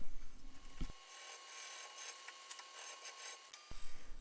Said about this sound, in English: This is a negative rake scraper